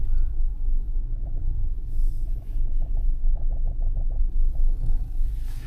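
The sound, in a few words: GWM Tank 300 diesel SUV climbing an uphill incline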